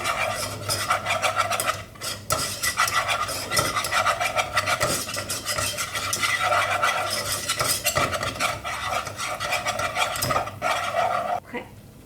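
Flour is stirred into melted butter in a pan to make a roux, a continuous rasping scrape of a utensil working round the pan, close and fairly loud, stopping briefly before the end.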